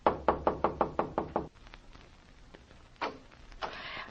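Radio drama door knock: seven sharp, evenly spaced raps close up, followed by quieter shuffling and a couple of fainter bumps.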